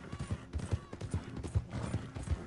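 Horse hooves clip-clop in a steady trotting rhythm in the Red Dead Online video game, close and moderately loud, with a few softer thumps between the beats.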